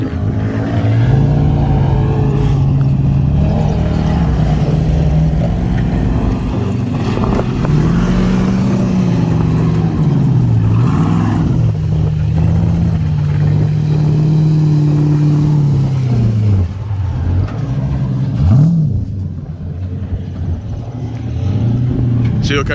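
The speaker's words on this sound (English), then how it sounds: "here are the trucks coming in right now" Side-by-side class race trucks at the Detroit 4Fest drive past, their engines droning and revving loud and close with rising and falling pitch, while a voice talks over the noise.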